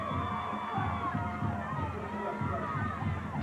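A large crowd of about twelve thousand at a 1994 high school football game, River Rams versus Sarasota Sailors, a broad continuous roar with cheering and shouts, heard from a distance beneath a commentator's voice.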